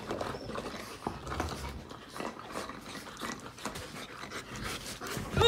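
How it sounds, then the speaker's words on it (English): Several dogs crowded together on a living room couch, panting in quick, uneven bursts close by, with soft shuffling and a few whimpers mixed in during play. "there's too many dogs on my couch"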